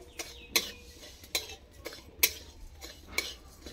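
Tamarind chutney being stirred in a pan: a series of distinct metallic clinks and scrapes of a spoon against the pan, roughly one every half second over a faint background, no voices.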